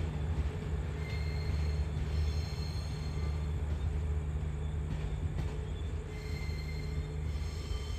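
A special express train at Surat Thani station at night, heard as a continuous low rumble of rolling cars with faint wheel squeals over steady station noise.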